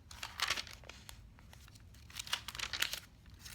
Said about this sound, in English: at least we at Junk Journal Junkies love the sound of crinkling paper